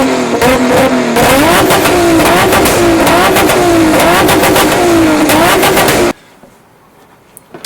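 A Nissan RB26 engine revs hard through its exhaust system for about six seconds, loud and close with rising and falling pitch sweeps and crackling pops, then cuts abruptly to near silence with a few faint clicks.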